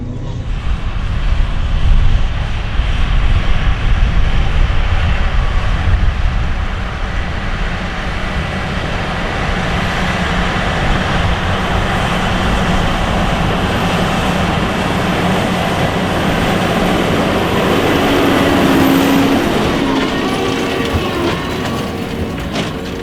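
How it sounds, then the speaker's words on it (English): A JCB Fastrac tractor hauls an old hay baler across a field, a loud continuous engine drone with mechanical rattling and a brief tonal whine near the end, steady and close throughout. "Old baler and Fastrac combination is going well."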